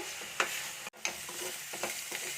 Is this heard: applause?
no